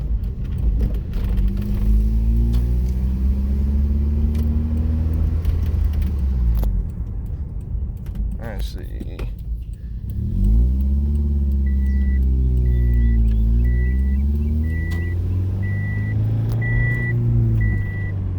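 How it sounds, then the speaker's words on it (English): A car engine with a knock from low oil pressure rumbles and revs up close with a rough, uneven note, a repeating beep chiming in later; a voice briefly speaks once. "Yeah, the motor's knocking"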